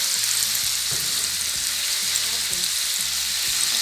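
Chicken pieces for fajitas fry loudly in a pan, a dense, constant close-up sizzle with faint low stirring knocks underneath and no talking.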